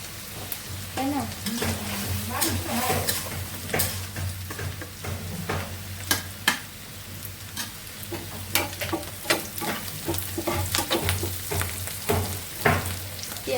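Onions frying in oil in a home kitchen pan, a steady crackling sizzle with repeated sharp scrapes and clinks of stirring, close and fairly loud, with a low hum and brief talk underneath.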